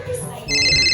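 An incoming-call phone ringtone chimes loudly in short bright repeating tones, starting halfway through a brief moment after a voice.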